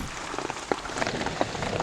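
Rain falling on a rural orchard, a dense steady patter with scattered heavier drops hitting nearby surfaces, brief and without voices.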